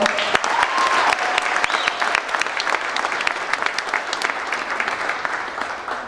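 A pageant audience at the 2013 Miss Mayhem Pageant applauds a contestant, with steady, full clapping throughout, a brief whistle early on, and the applause thinning slightly toward the end.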